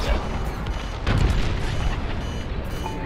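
A cruiser blows apart in a Star Wars Squadrons space battle, a dense roaring rumble with a heavier blast surge about a second in, sustained and loud throughout.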